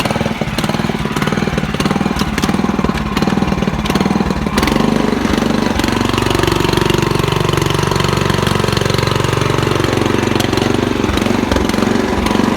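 An old Japanese petrol-engine rotary tiller that can cut ridges runs loud and close with a steady chugging throb, its engine note rising and falling midway.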